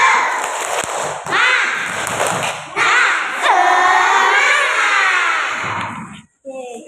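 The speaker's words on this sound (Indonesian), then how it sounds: "Tepuk semangat" Children in an elementary classroom perform a rhythmic spirit clap together, a loud, close patterned clapping with chanted voices, pausing briefly before the end.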